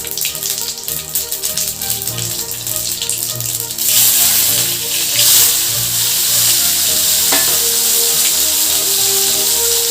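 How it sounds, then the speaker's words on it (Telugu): Cumin, a few fenugreek seeds, green chillies and onions sputtering in hot oil for a ridge gourd and prawn curry, a dense loud sizzle with crackle that swells brighter around four seconds and keeps hissing steadily near the pan. "కొంచెం జీలకర్ర నాలుగైదు మెంతులు అవి చిటపడ్డానికి వేసుకున్నాం పచ్చిమిరపకాయలు ఉల్లిగడ్డలు కూడా వేసేసుకున్నాం"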